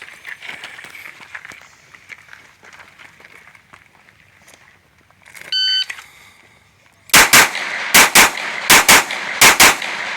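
Pistol shots from a practical shooting drill: a shot timer beeps, then a close, loud string of sharp cracks in quick pairs and clusters, over faint ambient noise before the firing starts.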